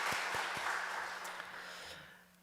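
Broad clapping from a church congregation at a worship service, loud at first and gradually fading out over a couple of seconds, with no talking.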